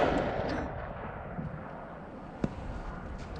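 A single sharp rifle shot from a Palmetto State Armory AK-E at a 200-yard range, a brief crack standing out over steady outdoor wind and background rumble.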